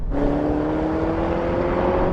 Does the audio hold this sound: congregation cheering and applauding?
no